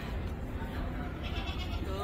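Sheep bleat outdoors at a December Christmas tree lighting event in Lyndhurst, wavering cries rising over steady crowd noise with people talking nearby.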